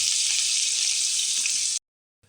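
Fish pieces for Andhra-style fish pulusu sizzle loudly in a pan with onions, a bright steady hiss close by that cuts off abruptly, with no talk.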